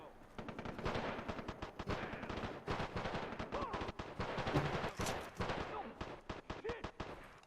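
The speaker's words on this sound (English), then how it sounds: "Oh god, I'm getting shot in the back." Rapid automatic gunfire in the online multiplayer of the video game Far Cry 3, dense overlapping bursts and shots rattling continuously and loudly, with a voice talking underneath.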